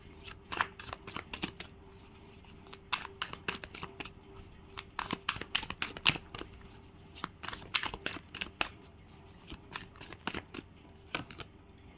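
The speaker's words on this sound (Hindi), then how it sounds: "मैं थोड़ा सा एक्स्ट्रा कार्ड निकालना चाहूँगी।" Tarot cards pulled from a deck during a reading: a dense run of crisp snapping flicks and brisk shuffling riffles at close range, coming in irregular bursts over a quiet background with no voices.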